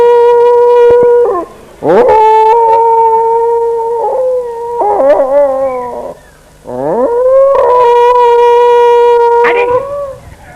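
A human voice imitates a dog howling, drawing out several long, wavering, rising and falling howls close up, with brief pauses between them.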